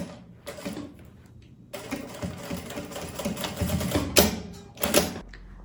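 A sewing machine stitching the strap of a quilted puffer tote bag, running in several close bursts of rapid mechanical chatter separated by brief pauses and handling noises.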